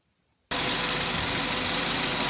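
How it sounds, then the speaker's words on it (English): A car engine with a suspected failing alternator starts up abruptly after a moment of near silence, then runs at a loud, steady idle with a rough, buzzing drone. "as you can see, the engine is on right now"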